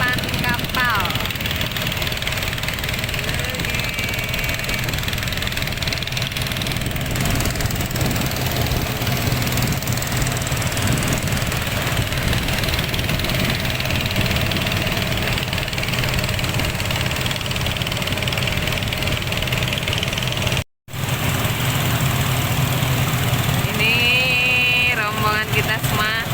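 Steady droning motors of a convoy of eight boats cruising along the Maron River in Pacitan, East Java, a continuous mid-pitched engine hum with knocking texture that runs throughout, briefly cut once, with faint voices at times.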